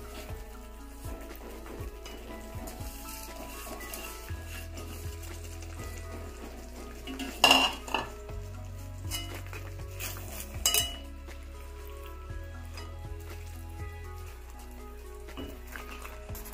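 Chicken curry with fried onions being stirred in a pan: soft sizzling and a few sharp clinks of a metal spoon against the pan, heard over a quiet, steady music background.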